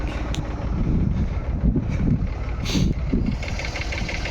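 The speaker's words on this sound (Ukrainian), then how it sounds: "Тракторець справляється. Робить як мерседес, рох-рох-рох-рох-рох, тихенько, легенько." A Dongfeng 244 tractor pulling a homemade plough, its engine knocking and idling in a steady low rumble, with wind buffeting the microphone throughout.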